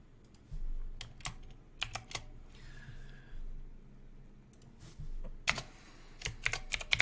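Typing on a computer keyboard during app-building work, giving sparse, crisp key clicks in irregular small clusters, close and fairly quiet, with no one speaking.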